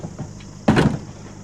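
A vehicle door on a Rescue 1122 ambulance thuds shut once, a single loud close standing out against low background noise.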